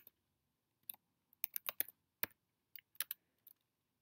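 Bursts of computer keyboard typing while entering code, with separate crisp key clicks in short runs and pauses, close and clear against a quiet room, no talking.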